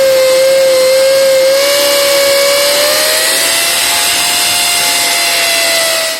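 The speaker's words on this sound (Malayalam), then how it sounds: "അടിയിലെ സിമന്റ് വെച്ച ഭാഗത്ത് ഡ്രിൽ ചെയ്ത് കൊടുത്താണ് ഇവിടെ ഹോൾ ഉണ്ടാക്കിയത്." A power drill bores a hole through the cement-filled base of a homemade cement plant pot, giving a loud, steady high whine that climbs slightly in pitch and runs unbroken throughout.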